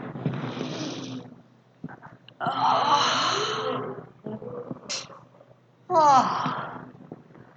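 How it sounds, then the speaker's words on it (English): Several drawn-out breathy yawns from a congregation at a church service, with sighing exhalations, rising and falling, close by, separated by brief quieter pauses. "so let's yawn and stretch"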